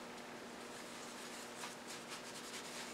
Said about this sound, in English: clean rag and I just buff it as best I can